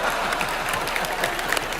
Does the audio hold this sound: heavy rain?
no